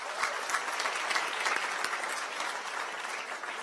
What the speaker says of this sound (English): A huge applause. They need a huge applause for this.